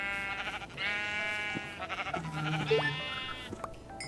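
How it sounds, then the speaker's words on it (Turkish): Several Minecraft sheep bleat in overlapping, wavering cries, with a few short synthetic game clicks and tones between them. "Üç tane koyun"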